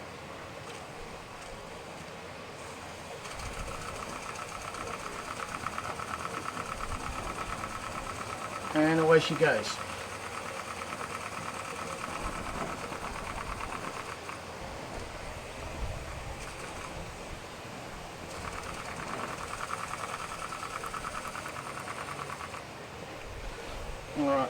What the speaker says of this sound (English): That's my homemade little steam engine.